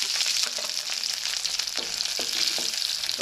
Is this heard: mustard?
yes